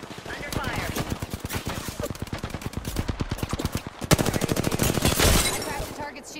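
Rapid automatic gunfire in the video game Apex Legends, loud and close, with sustained bursts of dense shots and short pauses between them.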